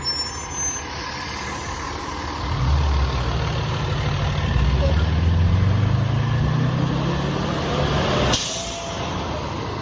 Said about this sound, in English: I hate those noisy trucks.